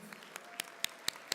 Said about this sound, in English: Big applause to them for everything they did.